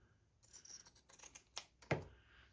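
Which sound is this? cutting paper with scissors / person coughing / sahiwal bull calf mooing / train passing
cutting paper with scissors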